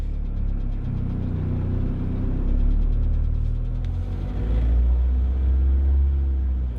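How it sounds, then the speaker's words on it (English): Manual-transmission car engine revving as gas is applied, a steady low rumble that swells and rises in pitch, heard from inside the car with no talking. "Now I think just give it a little more gas."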